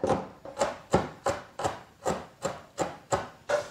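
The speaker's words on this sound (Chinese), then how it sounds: "来准备两个青红尖椒，先切一下之后再炸碎。" A knife chops green and red chili peppers on a board in about ten crisp, evenly spaced strokes, close and clear with no talking.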